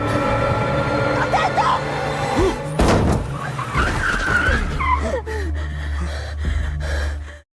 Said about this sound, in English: The scene parallels 10 years ago, when a young Michael was driving recklessly near the woods.